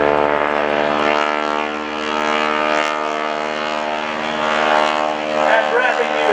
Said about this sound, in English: that's the tips of the propeller going supersonic